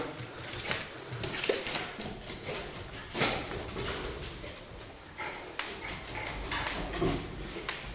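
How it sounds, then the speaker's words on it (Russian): A Shar Pei dog whimpers and whines in soft, repeated bursts, close by, with rustling and scuffling movement throughout and no clear talk. "Злобная псина."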